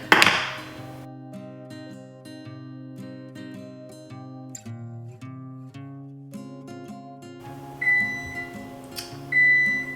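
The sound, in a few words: oven beeping when preheated to 350 degrees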